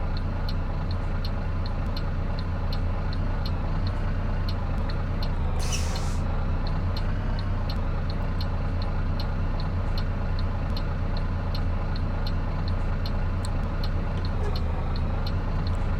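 Low steady diesel drone of a Wright Gemini 2 double-decker bus engine in the OMSI 2 simulator, running continuously throughout with a regular faint ticking like an indicator and a brief hiss partway through.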